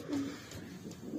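Young pigeons coo softly in a loft, a low, faint murmur with a few brief coos rising and falling over about a second.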